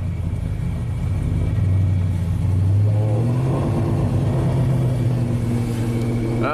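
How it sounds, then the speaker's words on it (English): A GMC truck engine, with a P0336 crankshaft position sensor stall-misfire fault, revs up close, its loud rumble rising and swelling in pitch, then holding at a higher steady roar. "Oh yeah, we got the revs now."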